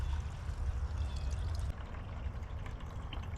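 Fuel flows out while a part is drained on an air compressor engine, a continuous close pouring and trickling rush that shifts slightly partway through, with no talk.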